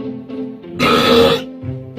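A loud, harsh burp forced out using a record-style burping method, lasting about half a second and set between quieter voiced sounds.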